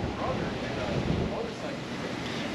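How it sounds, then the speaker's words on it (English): Ocean surf and gusty wind roll across a dog-friendly beach in Key West, a dense, continuous roar with heavy wind buffeting on the microphone and no distinct breaks. "So we found a dog-friendly beach"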